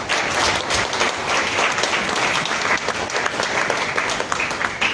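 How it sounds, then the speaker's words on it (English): An audience claps for Liberia at a national action plan launch, a dense and fairly even burst of applause from a sizeable crowd that stays loud throughout with no clear speech over it. "So I take the opportunity to ask all of us to clap for Liberia."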